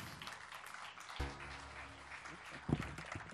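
An audience at the Meets and Beats opening of the Düsseldorf Kultursommer 2021 applauds. The clapping is a dense, moderate patter with a few louder bursts over a low background hum.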